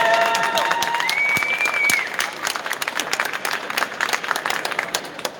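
A live audience roars with clapping and cheering, loud and dense at first with a brief whistle-like tone, then settling into scattered applause.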